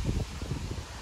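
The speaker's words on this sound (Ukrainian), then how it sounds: "Дуже сильний вітер прямо сьогодні." A strong outdoor wind on a mild day rushes steadily and buffets the microphone with low rumbling gusts and a constant hiss, alone with no voices.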